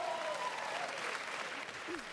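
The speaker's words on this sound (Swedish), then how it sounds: "Det var jubel på Moderaternas valvaka för en stund sedan" Applause and cheering at the Moderates' election night party fill a hall as a dense, steady wash of clapping, heard faintly at a distance with voices mixed in.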